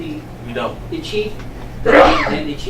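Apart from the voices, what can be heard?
sneeze in a meeting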